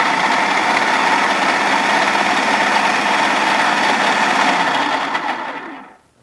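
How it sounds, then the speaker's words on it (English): A food processor whirs loudly at a steady pace as it mixes flour, sugar and salt, a continuous motor whine that keeps an even level for several seconds before winding down and stopping at the end. "Now we're going to put it in the food processor."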